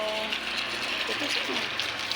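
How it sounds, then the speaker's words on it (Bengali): Heavy rain pours down outdoors in a steady, dense hiss that stays loud and unbroken throughout, with a voice briefly audible at the start. "প্রচন্ড বৃষ্টি হচ্ছে বাইরে"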